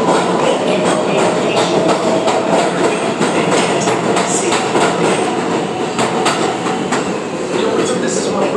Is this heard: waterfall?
no